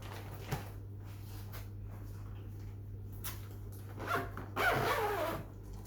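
Camping bag being zipped up, a quiet zipper rasp building into a louder, longer pull near the end over a steady low hum.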